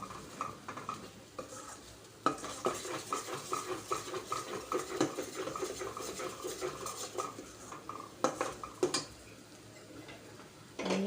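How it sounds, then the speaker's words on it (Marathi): Boiled white peas being tipped into a spice mix in a pan and stirred, soft continuous scraping and clicking of a spoon with a faint sizzle, quiet and close, no speech. "इथे शिजलेले जे वटाणे आहेत आपले उकडलेले ते यामध्ये आपण टाकूया"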